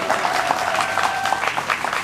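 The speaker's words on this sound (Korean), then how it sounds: "박수!" Wedding guests clapping together for the bride and groom, a close, steady stretch of brisk applause with a faint tonal hum running underneath.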